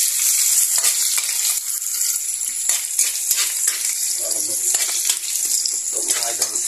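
Garlic and onion fry in a pan for ginisang petsay with tofu, giving a dense, bright crackling sizzle that runs loud and steady throughout, with small clinks and a faint voice under it.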